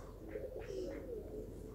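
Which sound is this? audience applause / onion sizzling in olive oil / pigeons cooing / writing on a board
pigeons cooing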